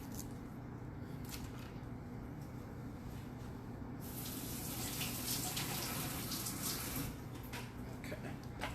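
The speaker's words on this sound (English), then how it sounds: "my onion was a little dirty, so we just rinse that off" A dirty onion rinsed under a kitchen sink tap, a soft steady hiss of running water that swells louder and brighter partway through as the stream hits the onion, close and fairly quiet with no talk.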